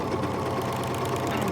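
An overlocker serger sewing machine runs steadily through fabric, a continuous close mechanical whir and rapid stitching hum with no pauses, alone without talk.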